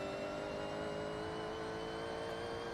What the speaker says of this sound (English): Listen to that supercharger roar.